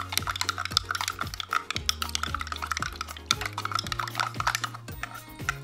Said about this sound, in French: La poudre de slime. Et on mélange bien.